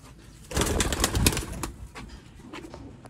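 Sialkoti pigeons cooing and rustling nearby, a burst of layered bird sounds and wing flutters early on that settles into quieter, intermittent coos.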